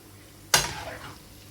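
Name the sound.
mixed vegetables being sautéed in a pan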